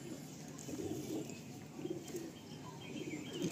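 Pigeons for sale coo softly in low, rounded, repeated phrases, a little distant and faint against background noise, with no voices.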